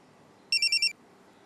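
A telephone rings in a short electronic trill of four quick pulses, clear and moderately close against a quiet room, with no talking.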